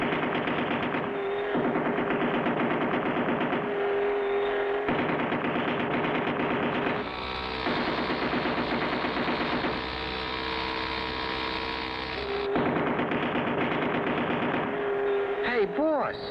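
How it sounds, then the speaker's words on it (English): Cartoon machine gun fire from an animated adventure series: loud, sustained rapid bursts of gunfire fill the whole stretch, with brief breaks between volleys and other soundtrack noise underneath. "we just fired our last round of ammunition"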